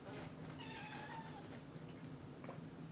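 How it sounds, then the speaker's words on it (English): A pet cat named Moo meows faintly a few times in a home kitchen during stir-fry cooking, the soft cries sitting low under steady background noise. "Could y'all hear that moo meowing?"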